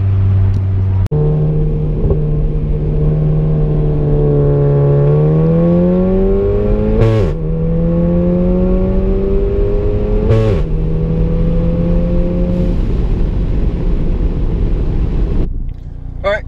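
A car engine held at steady high revs during a brake boost, droning loudly with shifting pitch and two sharp clicks, ending in a sudden drop.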